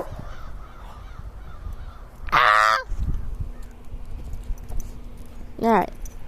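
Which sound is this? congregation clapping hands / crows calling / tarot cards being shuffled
crows calling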